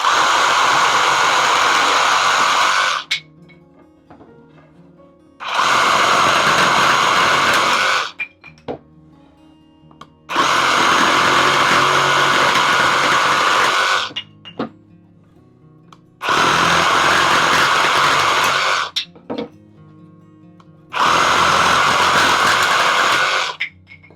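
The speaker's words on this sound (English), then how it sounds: "Just make sure your hand's quite a ways away from the blade, and then start into the wood." A RIDGID 18V sub-compact reciprocating saw cuts through wood in five loud bursts, each lasting a few seconds, with short quiet gaps between cuts.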